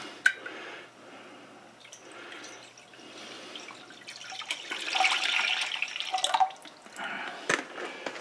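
Tap water runs into a stock pot for homemade beef chili, starting as faint drips and splashes and swelling into a louder steady stream with a metallic ring before cutting off, heard close without speech.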